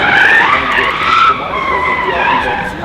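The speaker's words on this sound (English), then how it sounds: "to drift an electric car" Tires squeal and screech in a sustained, wavering skid as a Hyundai Ioniq 6 N electric car drifts, loud and close, with engine noise underneath.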